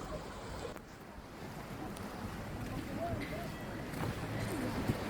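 Boats carry tourists out on the sea off the Dominican Republic after rain, with wind buffeting the microphone and waves washing steadily, a broad rough rumble that swells slightly toward the end, with faint voices in the background.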